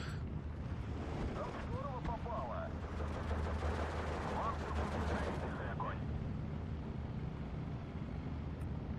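Mortar fire in the WW2 strategy game Steel Division 2 forms a dense, continuous barrage of overlapping blasts and crackling impacts under a steady low battlefield roar. A voice talks over the noise throughout.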